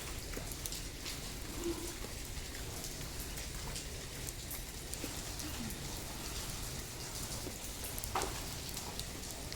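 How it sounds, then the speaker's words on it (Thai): Steady rain falls behind a house, a dense, even hiss of drops on surfaces that carries on throughout with no pauses. "หลังบ้านมีฝนตกนะคะ"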